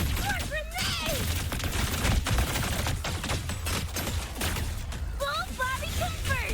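Grenades explode in the game Wuthering Waves as a steady barrage of pops and blasts, mixed with other game effects and short electronic chirps.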